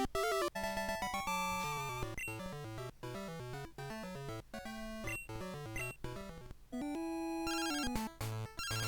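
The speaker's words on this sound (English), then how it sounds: "That's a phone call I don't want to hear." The phone ringtone from the Pokémon Silver video game plays as a chiptune jingle. Bright, rapid electronic beeps repeat in a busy pattern, loud and clear, with no voices.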